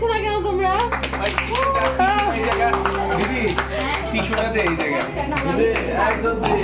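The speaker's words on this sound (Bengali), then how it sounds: "হাততালি" Rhythmic hand clapping from a group at a child's birthday celebration, steady and fairly loud, mixed with singing and children's and adults' voices throughout.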